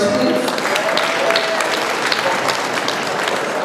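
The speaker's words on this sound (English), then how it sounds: "Big round of applause for George, please" Audience applause for George, a cast member of Phantom of the Paradise, at a fan weekend event: a steady, dense wash of clapping hands that holds at even loudness throughout, with no pauses.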